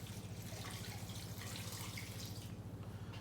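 Water is poured into an Instant Pot for a stew, giving a steady, moderately loud splashing stream that runs without a break and eases off near the end, with no talking.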